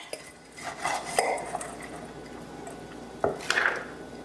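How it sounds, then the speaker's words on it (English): Diced onion tipped into a cooking pot, heard as a few close clattering knocks and a brief scattering rattle against the metal, with quieter gaps between. "now we're gonna add our diced onion"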